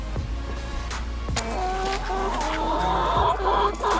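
Young hens, hatchery chicks raised since fall and now starting to lay, cluck repeatedly inside a garden chicken tractor, with close, overlapping calls over a steady low background hum.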